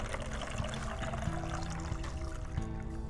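Water is poured into a bottle to root an avocado seed, a continuous close trickling fill with a steady gurgling tone.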